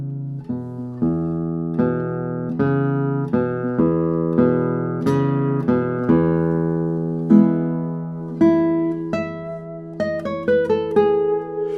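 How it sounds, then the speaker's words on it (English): A 1998 Greg Smallman concert guitar rings out open strings one after another, each note sustaining and decaying, then a quicker run of plucked notes near the end; close and clear. "the way the open strings sound"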